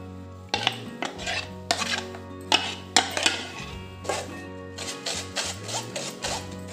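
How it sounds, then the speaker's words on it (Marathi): Cooked tomato sauce pushed and stirred through a steel sieve set over a steel pan, with repeated close metallic scrapes and clinks in an irregular rhythm over a steady low hum. "त्यात आता आपण हा सॉस गाळून घेऊ।"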